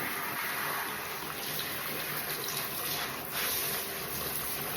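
Water splashed and trickled by hand over a miniature bull terrier's short coat during grooming, a steady close wash of running, dripping water with no talk.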